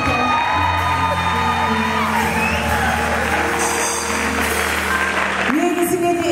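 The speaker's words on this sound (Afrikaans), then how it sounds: "dis 'n wonderlike klap vir my" Loud audience applause and cheering with whoops and shouts from a lively crowd at a live event, a dense continuous roar that drops off briefly near the end before voices rise again.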